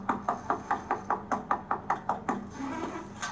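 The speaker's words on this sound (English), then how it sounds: "Let me knock on it first" Knuckles rap on a door in a regular series of about a dozen sharp, evenly spaced knocks, close and fairly loud, followed by a short pause and one more knock.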